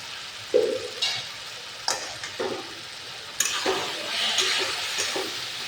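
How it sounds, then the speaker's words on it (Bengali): Spices such as chili powder, cumin and coriander powder are stir-fried in a pan for a fish curry, with a loud initial sizzle burst and scraping strokes from a spatula. "মশলা দিয়ে ভালো করে কষিয়ে নেব।"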